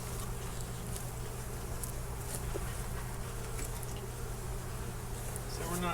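Steady, close buzzing of many honeybees around a hive hums continuously, with faint rustling and small knocks in the background.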